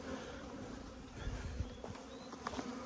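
A dense, continuous buzz of many bees swarming around an opened beehive, a steady droning hum close by with no talking.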